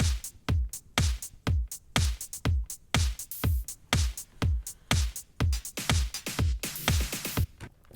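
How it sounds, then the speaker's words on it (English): Four-on-the-floor drum beat for an upbeat JRPG village theme, with a kick on every beat, crisp hats and snare between, and busier cymbal hits toward the end, played loud and close with no talking. "this is just a 4 to the floor beat that sounds like this"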